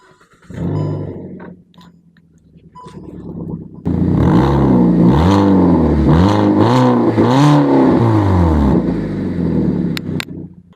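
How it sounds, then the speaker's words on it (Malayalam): A Hyundai car engine starts and runs with a leaking exhaust silencer pipe. The loud idle has a wavering, puffing rumble with rhythmic pulses and revs, heard up close and alone after a few quieter handling noises. "ഞാൻ വണ്ടി ഒന്ന് സ്റ്റാർട്ട് ചെയ്ത് നിങ്ങളെ കാണിച്ചു തരാം"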